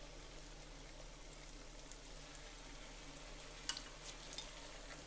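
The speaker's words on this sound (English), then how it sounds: "Now you can see that these are frying at a nice even rate." Chicken fried steaks fry in a thin layer of oil in a skillet, giving a soft, steady crackling sizzle with a few faint pops and no talking.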